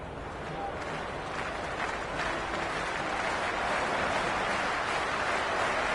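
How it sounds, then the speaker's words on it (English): Cricket stadium crowd before a delivery, a broad continuous roar of many voices and clapping, steady and loud throughout with no break. "this crowd is already making it hard for me to be heard."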